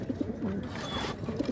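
Pigeons coo close by in soft, rounded low calls that repeat in short bursts, with a quiet room ambience behind them.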